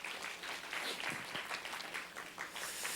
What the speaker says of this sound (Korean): 모든 영광 하나님께 박수하시겠습니다.